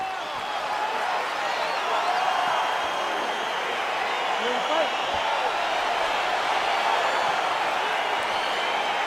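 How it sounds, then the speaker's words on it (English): A steady, dense roar from a video game arena crowd fills the space as a UFC fight gets underway on PS5, a continuous wash of cheering with no breaks. "All right, crowd getting excited as this fight gets underway"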